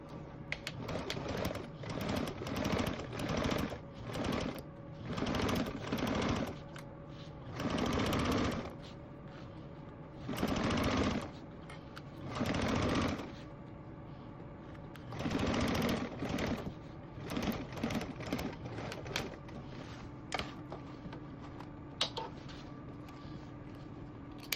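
A sewing machine topstitches a tote bag at a quarter-inch seam allowance, running in repeated short bursts with brief pauses between, close and clear with no talk.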